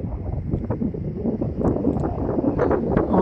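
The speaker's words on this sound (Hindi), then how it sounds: "बहुत ज़्यादा हवा चल रहा है" Strong wind blowing outdoors near Nakheel Mall in cold weather, a loud continuous buffeting roar hitting the microphone with gusty swells and no speech.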